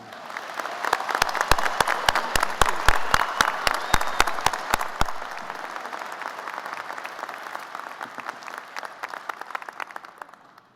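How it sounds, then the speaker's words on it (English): Applause for a graduating veterinary medicine class at a college graduation ceremony: a large audience claps steadily for about ten seconds, strongest at the start and then thinning gradually, with a few sharp individual claps standing out near the front. "Can we give them a big round of applause, everyone?"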